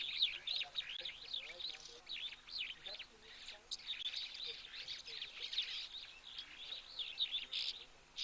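Birds call at a waterhole, a steady chorus of high, quavering chirps and warbles repeating over a faint, distant background, fairly quiet throughout.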